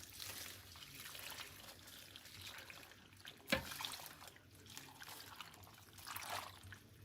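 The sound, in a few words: pouring beef broth into a crockpot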